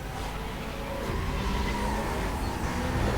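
Car engines racing in Need for Speed Most Wanted (2005), with a Corvette and an Aston Martin among the pursuing cars; a steady, loud engine drone runs throughout with slight rising intensity, no talk.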